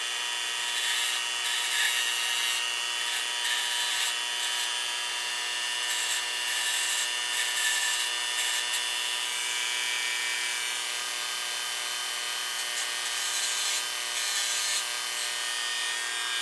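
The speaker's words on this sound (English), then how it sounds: "So what I'm going to try and do is carefully do that with the Dremel" A Dremel rotary tool grinds continuously inside a Dye Rotor paintball loader, a steady high-pitched whine with a rough abrasive edge, close and unbroken throughout.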